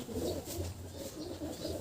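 A racing pigeon coos in repeated soft, low throaty phrases, close and steady, with light background ambience and no speech.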